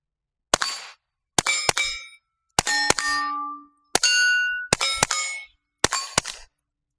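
Suppressed .22LR rifle shots through a CMMG ZEROED 22 suppressor at an outdoor range, ten rounds fired as sharp cracks with metallic pings of steel targets, spaced evenly in pairs and singles.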